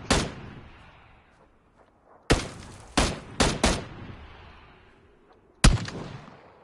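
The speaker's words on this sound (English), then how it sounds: "The M24 sniped in my face, yo." Single sharp rifle shots from an M24 sniper rifle in the game PUBG, six loud cracks with booming echo tails, spaced irregularly with a quick cluster of three in the middle.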